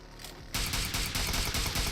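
Rapid gunfire in the PUBG Mobile shooter, with automatic SLR bursts, breaks in loudly after a quiet half second. The shots keep up in a dense, sustained volley to the end of the clip.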